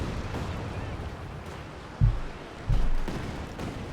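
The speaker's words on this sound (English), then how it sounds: "The Katyusha fire off." Katyusha rocket artillery firing in Company of Heroes 2, two low thumping launches about half a second apart over a rumbling battlefield bed, moderately loud amid ongoing game noise.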